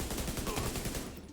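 Rapid gunfire in a first-person shooter video game, a fast burst of repeated shots at steady volume throughout the short moment, with no talk over it.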